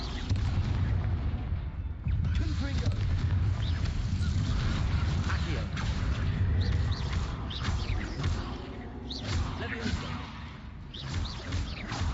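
Repeated Confringo blasting-spell explosions in the Hogwarts Legacy video game, deep booming bursts one after another over a dense, continuous battle din with a speaking voice.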